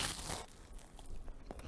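Hangwa, a Korean fried rice snack, is bitten with a quiet, close crisp crunch, followed by a few brief crackling chews.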